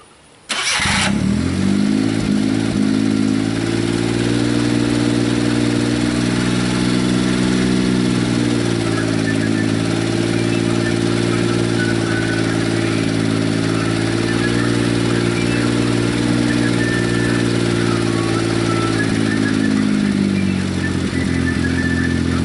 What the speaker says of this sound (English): Crank the truck up, let you hear now that everything's doing what it's supposed to do.